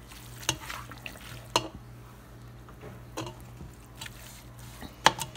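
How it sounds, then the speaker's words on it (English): Bacon, onion and bell peppers sauté in a pan with a faint steady sizzle, broken by several sharp scrapes and clicks of a utensil stirring against the pan. "Get that nice and stirred and cooked in there real good. Let all that saute together."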